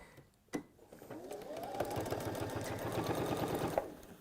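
Close and steady, a sewing machine runs for about three seconds, top stitching fabric over encased raw edges, preceded by a sharp click as it starts.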